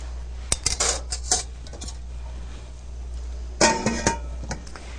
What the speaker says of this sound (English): Going to give it a quick stir because we don't want anything sticking to the bottom